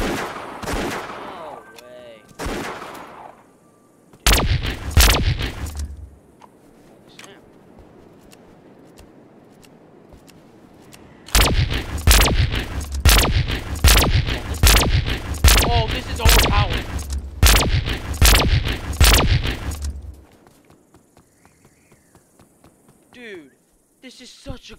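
Rapid bursts of gunfire from a weapon in Roblox Wild West, a Halloween-update video game: one short burst early, then a long run of loud repeated shots, with talk in between.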